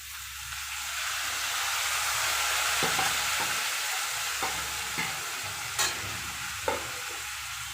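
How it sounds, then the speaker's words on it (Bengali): Spice paste of ground onion, garlic and ginger with salt, turmeric, green chilli, chilli powder and cumin frying in a pan, a broad steady sizzle with occasional stirring knocks and scrapes, nobody speaking. "এবার এটা দিয়ে ভালো করে মশলাটা দিয়ে ভালো করে কষবো"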